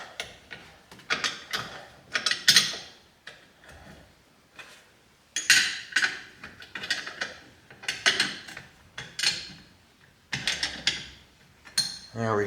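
A hand ratchet clicks in short bursts while tightening a part on a 1978 International Scout, with quick pawl ticks separated by brief pauses, close and fairly quiet.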